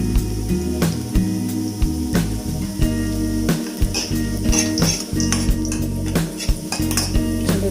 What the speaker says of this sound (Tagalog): Kailangan natin mag-golden brown po ang bawang.